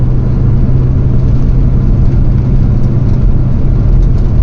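A vintage VW T3/T25 van is driven on the road, its engine giving a loud, steady low drone and whir from inside the cabin that holds an even pitch for several seconds with no voices.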